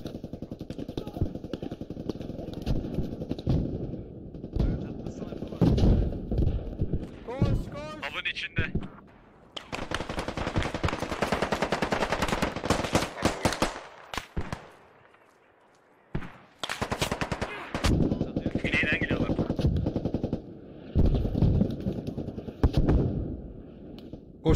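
Rapid gunfire bursts and explosive blasts in the realistic military video game Squad, loud and intermittent, with players talking over the combat.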